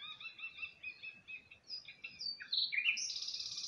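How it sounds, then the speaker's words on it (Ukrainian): Small birds chirping and twittering in a meadow, a run of quick bright repeated calls that grow busier and louder toward the end, with no voices. "Так, це пташки."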